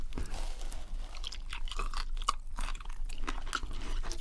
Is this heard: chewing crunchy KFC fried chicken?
yes